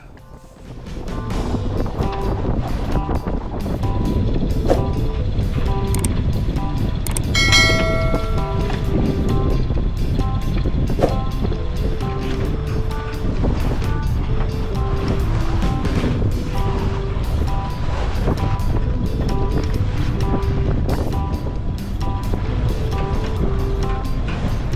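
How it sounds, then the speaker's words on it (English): A sailboat sails at sea toward San Diego, with a steady, loud rush of wind and water that runs unbroken for the whole stretch and no voices over it. "So here I am sailing back to San Diego."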